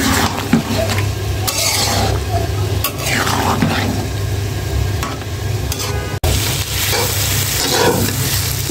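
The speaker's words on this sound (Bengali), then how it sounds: "ধনিয়া পাতা দিয়ে একটু নেড়ে চেড়ে নামিয়ে ফেলবো" A fish curry with coriander leaves is stirred in a pan, a constant sizzle with scraping spatula strokes and a few metallic clinks against the pot, close and continuous.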